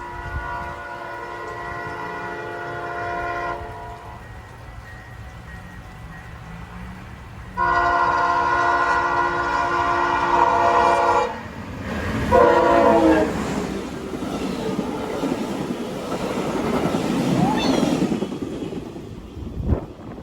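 CN freight train sounding its horn at Laurier station: two long, loud horn blasts separated by a pause, followed by rumbling rail noise and clatter as cars move past, with no talk.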